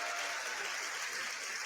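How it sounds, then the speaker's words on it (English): Applause for Notre Dame after a college football playoff win, a dense, steady wash of many hands clapping at once, loud and continuous throughout. "Everybody clap for Notre Dame."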